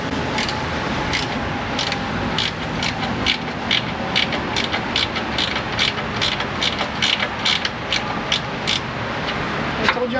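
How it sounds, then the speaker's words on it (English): A ratchet wrench turning a bolt on a car in an auto repair shop, a fast steady series of loud, close clicking ratchet strokes repeating evenly over shop background noise. "I told you how much I like these wrenches."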